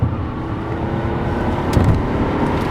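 BMW 750Li sedan driving hard with a steady, loud low engine drone and road and tire rumble throughout, swelling slightly toward the end.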